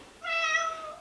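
A tired cat lets out one clear, drawn-out meow, close and moderately quiet, with no talk over it.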